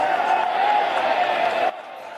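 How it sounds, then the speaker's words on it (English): Football crowd noise at a Frankston YCW vs Red Hill division one reserves grand final, a steady broad roar that drops away suddenly near the end, with a commentator's voice running over it. "Crowd getting vocal, which we love"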